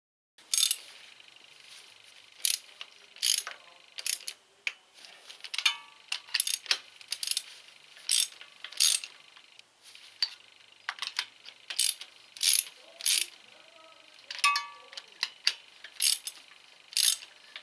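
A ratchet tightens spark plugs during a spark plug and air filter replacement, giving quick bursts of sharp clicking pawl strokes in an irregular rhythm, close and clear with no talking.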